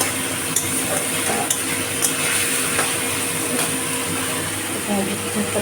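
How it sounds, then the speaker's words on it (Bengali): Spice paste sautéing in a pan for a fish curry: a dense, continuous sizzle with occasional stirring scrapes and light utensil taps, close and loud. A steady kitchen hum runs underneath. "মশলাটা কষাচ্ছি"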